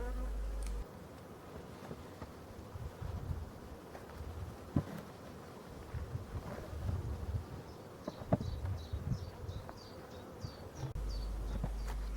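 Honeybees buzz steadily around a hive, with a dense, continuous insect drone and a few louder passes close by; no one speaks.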